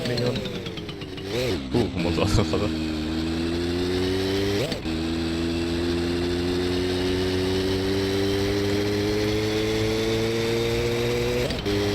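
Car engine running steadily in a close, loud drone with a shifting tone as the clutch is worked, rising and dipping in pitch, with brief bumps and knocks at the start and a couple of short clicks later.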